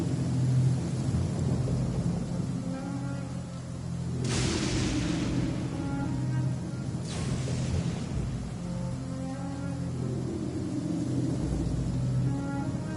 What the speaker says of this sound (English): Oh, I don't like the rain.